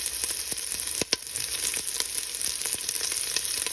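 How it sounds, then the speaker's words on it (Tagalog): Sliced onions sizzling in a hot pan while tilapia in coconut milk is being prepared, a constant crackling hiss broken by a few sharper pops and spatters. "Lagyan naman natin ngayon guys yung sibuyas."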